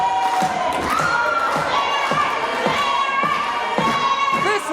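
Dense wrestling crowd chanting in rhythm at a tag team match, opposing chants overlapping with a steady roar and regular thumps, loud and continuous throughout.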